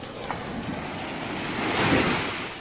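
Calm sea waves wash onto a beach in a steady, soft surf, swelling gently once over light wind noise, with no voices.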